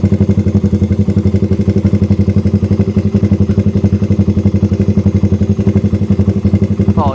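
A motorcycle engine with a 32mm carburetor and no air screw idles loud and close, its quick, even pulsing steady from start to finish without any stumble.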